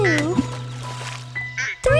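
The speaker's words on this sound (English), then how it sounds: "Mommy duck said quack, quack, quack, quack" A duck quacks in a cheerful children's nursery song: a few short nasal quacks over light musical accompaniment, bright and close.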